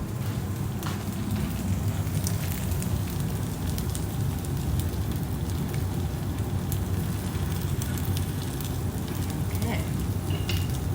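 Savory dish frying in a frying pan, a steady dense sizzle and crackle running continuously at moderate level, close by, with no talk over it.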